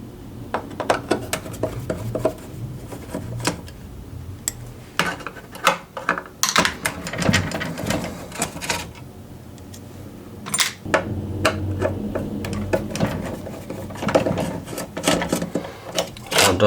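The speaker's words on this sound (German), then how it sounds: "Jetzt lösen wir die Schrauben. Das sind kurze Schrauben." Short screws being loosened from the circuit board of a DeLonghi Dinamica coffee machine during disassembly, giving irregular close metallic clicks, scrapes and rattles of tool and parts, no talk.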